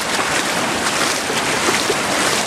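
The flooded Santinho stream rushes nearby, a dense, loud, continuous broadband roar of churning water with no breaks or voices.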